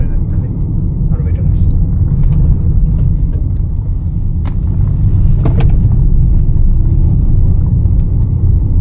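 A 2014 Toyota Fielder Hybrid WXB being pushed harder on the road, heard from inside as a loud, steady low rumble of engine and road noise under people talking.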